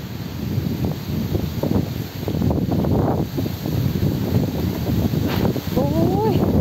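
Wind blows in gusts at an outdoor merit-making ceremony, a constant rumbling buffet on the microphone with rustling, and a voice faintly heard underneath.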